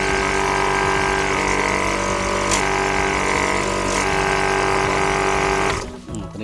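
A high-pressure air compressor runs loudly and steadily, a dense mechanical drone with a few faint clicks, then cuts out abruptly near the end.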